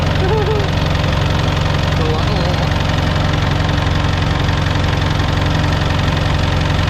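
A small engine runs continuously, shaking hard with a steady low rumbling drone and a faint knocking texture throughout, fairly loud and close, with no talk over it.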